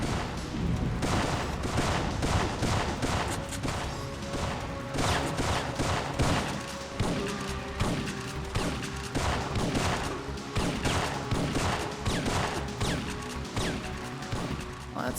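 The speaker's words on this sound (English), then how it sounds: "he is just getting all kinds of shots on me" Syphon Filter video game gunfire, repeated loud shots and short volleys punching out in an irregular rhythm throughout, with crashes and impacts in between.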